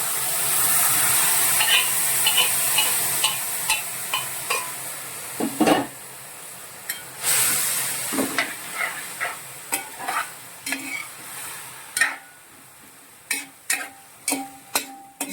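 Beef sizzles loudly in a hot pan, then a spoon scrapes and clatters against the metal in a run of quick, irregular stirring strokes that grow sharper and more frequent toward the end.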